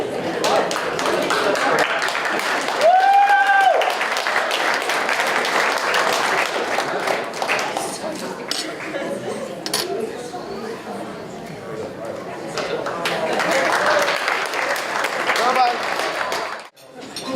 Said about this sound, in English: A big round of applause to our bride and groom, everybody.